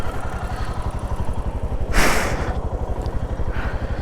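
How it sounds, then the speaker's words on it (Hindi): A motorcycle engine thrums with a fast, even pulsing beat, loud and close, on a ride toward Kargil in Ladakh, with a brief whoosh of wind or passing traffic midway. "तो अभी तुषार चलाने वाला है बाइक।"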